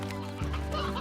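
Chickens in the farming game Slime Rancher cluck steadily over a constant droning game backdrop, a short continuous burst with a slight shift partway through.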